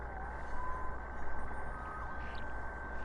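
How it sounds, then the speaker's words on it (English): An emergency siren wails at a distance over a low, continuous rumble, its rising and falling tone faint against the steady background noise for a few seconds. "Saved by the siren."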